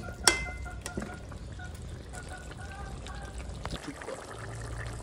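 Potatoes going into a pan and starting to fry for a rui posto fish curry, a sharp clatter at the start followed by a soft, steady sizzle and stirring that stays fairly quiet.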